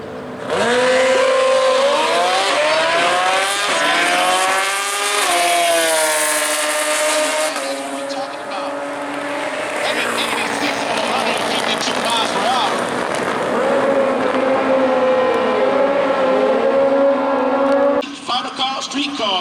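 Drag race cars, including street-class bikes like a ZX14, launch down a Midwest drag strip at Worldwide Technology Raceway, engines screaming and rising in pitch as they accelerate away, loud and sustained, with an announcer's voice over the roar.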